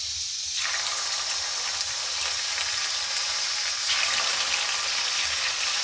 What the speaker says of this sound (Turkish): Arkadaşlar yağımız ısındı.